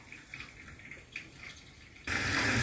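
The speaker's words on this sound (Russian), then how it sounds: "В кастрюльку наливаем воду, водичку подсаливаем." Water from a tap runs into a saucepan for blanching cauliflower, a soft trickle that suddenly becomes a loud, steady gush near the end.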